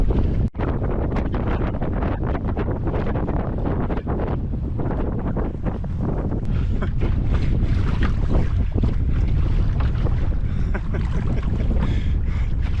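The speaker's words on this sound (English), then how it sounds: "So there's a strong headwind, but then the gusts are just swirling like that." Strong gusty headwind roars and buffets the microphone in a continuous low rumble, surging in swirling gusts, with faint water sloshing beneath, on a backcountry canoe trip.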